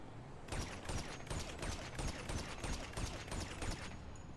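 Gunfire in Grand Theft Auto V: a steady, rapid series of sharp shots that sounds like sustained automatic fire, fairly faint and distant, with no talking over it.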